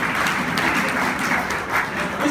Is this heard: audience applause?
yes